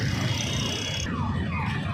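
An ambulance siren wails through a stalled traffic jam, its sweeping tone rising and falling over a constant roar of idling engines and road noise.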